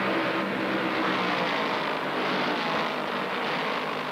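1968 stock cars, including Mercury and Plymouth racers at the Southern 500, roar past in a dense, loud, continuous engine wash that swells slightly and fades, with no talk.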